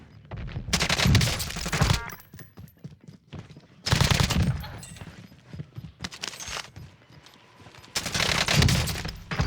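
Automatic gunfire in a Call of Duty Rebirth Island gunfight, coming in three loud, sustained bursts separated by short pauses, with single scattered shots and faint mechanical clicks between them.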